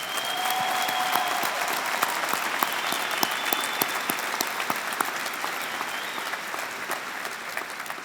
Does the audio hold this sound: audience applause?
yes